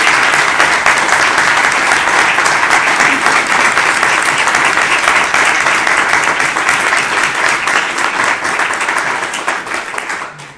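A large audience applauds a rural church figure, don Agustín, with dense, loud, sustained clapping that holds steady before fading out at the end.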